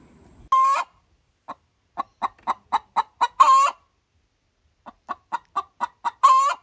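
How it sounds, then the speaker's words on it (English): Backyard chickens clucking nearby in quick rhythmic series of short clucks, punctuated by a few louder, drawn-out squawks. "Chickens, although very lovable, can at times get a little bit noisy."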